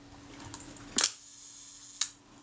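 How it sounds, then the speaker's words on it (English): A Bessamatic camera shutter is cocked and fired, giving two sharp mechanical clicks about a second apart against a quiet background. "So the shutter's cocking and firing."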